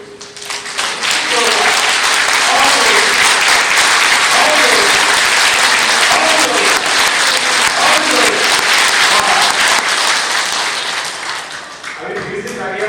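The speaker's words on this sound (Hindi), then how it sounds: "आपको जितनी जोर से तालियां बजाना आता है उतनी जोरदार तालियां बजाना" A large audience at a family-awareness talk claps as loudly as it can, a thick, roaring wall of applause sustained for over ten seconds before tapering, with a voice faintly present near the end.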